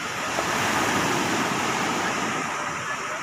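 Big ocean waves rolling near small fishing boats make a loud, steady surf roar that rushes on without a break.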